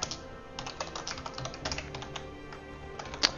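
Code typed on a computer keyboard, a quiet, close run of rapid irregular key clicks with one sharper tap near the end.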